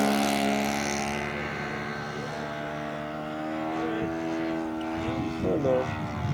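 An RC Piper J-3 Cub model plane with an 80-inch wingspan and an OS FS-48 Surpass engine flies at Tehachapi Crosswinds, giving a continuous buzzing engine drone whose pitch shifts as it passes, with people talking nearby.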